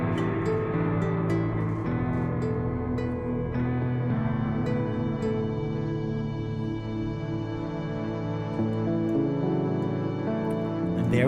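Dungeon synth passage built from thick, swelling synth pads and sustained layered chords, playing continuously at a steady, fairly loud level with gentle rises and no voices.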